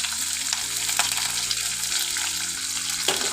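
Dried red chillies, green chillies, crushed garlic, cumin and curry leaves fry in oil, a dense close sizzle with a steady background hum and faint stirring.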